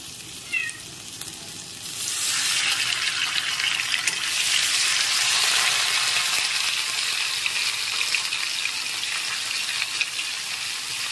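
Ginger paste and a little water hitting a hot pan with fried tempering spices, bursting into a loud, steady hiss that swells after a brief quiet start and keeps sizzling throughout.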